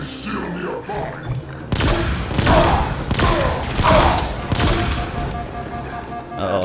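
Heavy gunfire in the video game Halo Infinite, loud overlapping volleys arriving in several surges with booming impacts, dense and close throughout.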